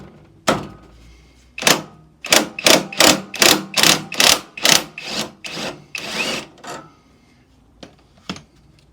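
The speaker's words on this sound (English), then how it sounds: "it's a 12mm socket to get the shock absorber retaining bolt free" A 12mm socket works the rear shock absorber retaining bolt on an AJS Modena motorcycle. About a dozen sharp, rhythmic ratcheting strokes come close and loud, then slow and fade to a few isolated knocks.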